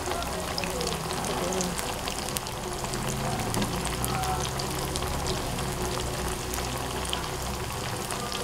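Tempe menjes frying in hot oil, a dense, continuous sizzle and crackle that stays loud and even from start to finish, close up with no pauses.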